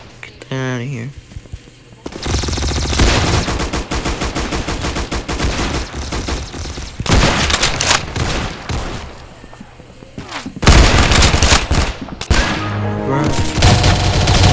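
Shotguns fire in the Roblox video game in a dense, loud, nearly continuous barrage of close blasts, broken by a brief lull before heavier shots resume; a player talks briefly at the start.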